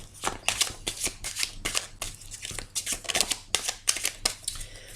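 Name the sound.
shuffling tarot cards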